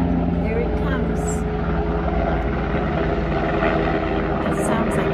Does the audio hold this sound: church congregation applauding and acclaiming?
no